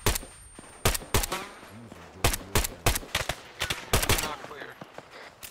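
Burst of gunfire from a firefight against a DShK heavy machine gun in the video game ArmA 3, with sharp, loud shots in irregular clusters and a radio voice talking between them.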